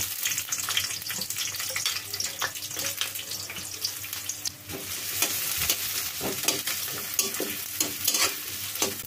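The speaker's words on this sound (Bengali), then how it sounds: "পেঁয়াজ মরিচ কিছুটা ভেজে" Onions and green chilies frying in oil in a wok, giving a continuous sizzle with scraping stirs and a watery hiss, close and steady.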